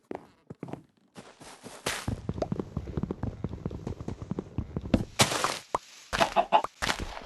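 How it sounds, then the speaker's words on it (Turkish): A chicken clucks in Minecraft, heard among a busy run of short clicking taps and block-placing knocks, with a few brighter bursts toward the end, fairly close and with no talking. "tavuk geldi."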